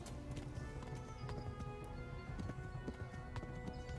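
Horse hooves clip-clop in the medieval video game Kingdom Come: Deliverance, a steady trotting rhythm with a snort or whinny mixed in, set against quiet game ambience and music.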